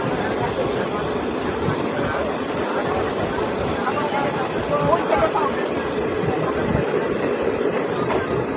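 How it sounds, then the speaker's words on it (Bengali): Agartala-Karimganj DEMU train pulling out of Teliamura station, a steady broad rumble of rolling stock and engine with faint rhythmic clatter, continuous and fairly loud throughout, heard from on board. "আমাদের ট্রেন ছেড়ে দিল তেলিয়ামুড়া স্টেশন থেকে।"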